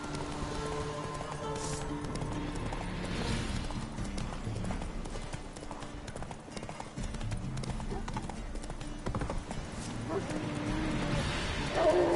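Roach the horse galloping in The Witcher 3, steady rhythmic hoofbeats over a dense game soundscape of ambient noise and music, with faint dog barks mixed in.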